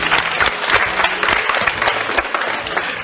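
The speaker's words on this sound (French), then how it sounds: "On les applaudit?" A French television studio audience on a children's variety show bursts into steady, fairly loud applause, with thick continuous clapping throughout and no voices on top.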